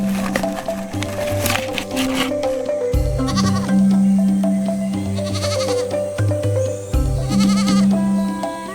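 Bighorn sheep bleat loudly and repeatedly in long wavering calls, several overlapping, close to the listener with no talk.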